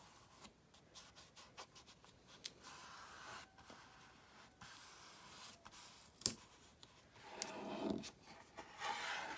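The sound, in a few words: scissors cutting a paper print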